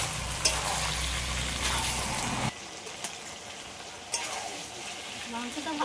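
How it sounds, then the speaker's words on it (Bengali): Spices sautéed together with crisp fried onions in a pan, giving a continuous sizzle with scraping stirs; a louder, denser frying noise gives way midway to a softer hiss with occasional clinks. "তবে একসাথে ভালো করে আর একটু কষিয়ে নিই।"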